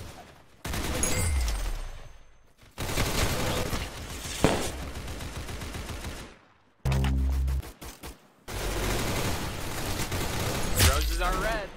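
Rapid bursts of gunfire in the Roblox shooter Arsenal, loud and close, broken by short silent gaps, with game sounds and effects mixed in between the volleys.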